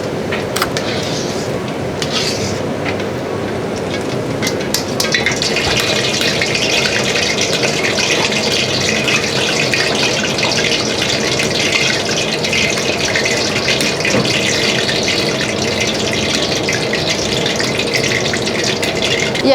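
Water from boiled rice drains out in a steady close gush, loud and continuous for most of the stretch after a few softer splashes and clatters at the start, with no talking.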